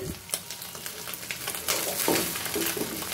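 Small cheo fish fry in hot oil in a pan for a fish, potato and onion curry, a steady close sizzle with scraping stir strokes breaking through, fuller toward the end.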